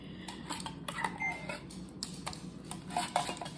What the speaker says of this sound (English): Have 1 can of cream of mushroom soup. I'm going to just spoon that over the top.